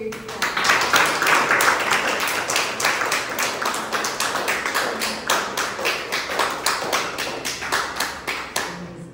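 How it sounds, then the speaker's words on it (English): An audience applauds after a performance with a warm, sustained round of clapping. It stays dense and fairly loud, then breaks into more distinct individual claps and ends abruptly. "So let's have a warm round of applause for the great."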